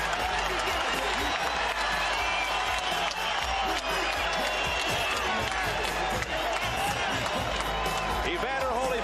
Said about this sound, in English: Evander Holyfield gets the greeting from the crowd